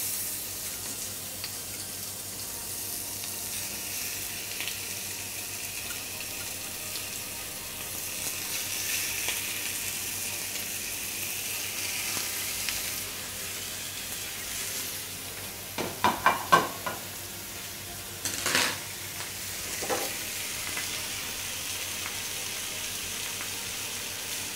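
Bacon-wrapped shrimp frying in a smoking-hot pan give a steady, even sizzle throughout, with a brief burst of sharper crackles and pops near the end.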